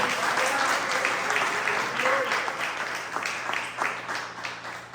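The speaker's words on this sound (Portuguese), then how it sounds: "Pode aplaudir o nome dele?" A church congregation applauds in a full, continuous burst of clapping that swells and then eases slightly, with voices calling out under it.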